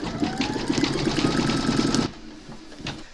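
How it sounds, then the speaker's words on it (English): An embroidery machine stitches round number 14 on a reindeer slipper in the hoop with a rapid, rhythmic mechanical chatter, close and steady, then stops abruptly, leaving a faint quiet tap. "pop your hoop into your machine and stitch round number 14"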